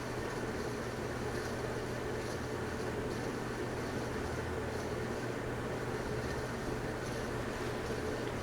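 A ceiling fan motor runs steadily in an indoor room, producing a constant low hum with broad whirring noise that stays even and unbroken throughout.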